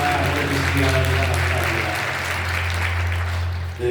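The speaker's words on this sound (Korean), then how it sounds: "네, 박수 주시기 바랍니다." Applause from a church congregation during a worship service fills the clip, steady clapping over a low sustained hum, with a voice faintly present underneath.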